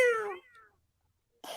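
A single cat meows once, a clear falling cry close to the mic, then brief quiet before a short rustle.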